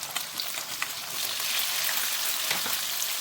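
Capsicum fries in a pan for Korean spicy rice cakes, a steady close sizzle that swells slightly partway through, with a few light crackles and no talk.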